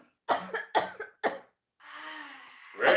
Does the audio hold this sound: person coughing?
yes